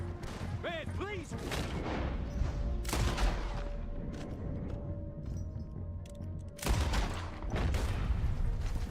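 Gunfire from a shooting video game, rapid bursts and loud blasts running through the clip amid hectic game sounds, with a sharp crash-like surge near the end.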